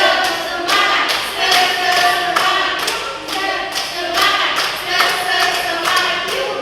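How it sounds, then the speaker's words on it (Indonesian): A classroom of students claps hands together in a steady rhythmic chant pattern, repeated bursts of claps running through the whole stretch, loud and close with a lively group feel. "Tepuk satu, tepuk dua, tepuk tiga"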